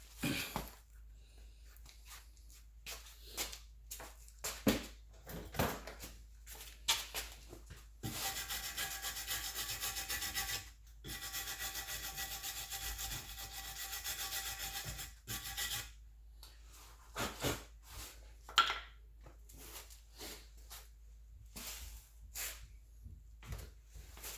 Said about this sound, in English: Use the rag to clean the inside.